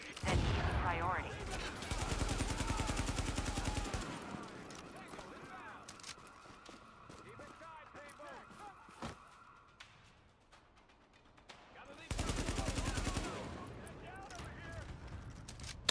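Bursts of rapid AK assault rifle fire in Tom Clancy's The Division, two loud stretches of automatic shots separated by quieter combat noise and someone talking.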